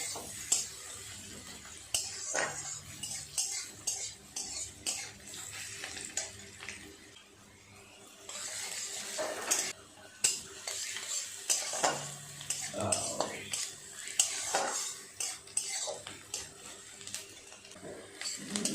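Onions fried and stirred in a pan until golden, a continuous close sizzle broken by repeated scraping stirs and clatters, with brief soft voice sounds in places.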